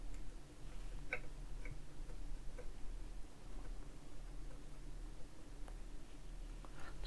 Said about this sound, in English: Screw that in.